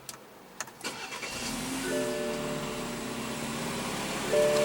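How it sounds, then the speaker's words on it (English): A 2016 BMW 4 Series convertible with a 2.0-litre turbocharged inline-four is push-button started nearby: a few clicks, a brief cranking catch, then the engine settling into a steady idle hum that rises slightly at the end. "And what you're hearing there is a 2-liter turbocharged inline 4-cylinder."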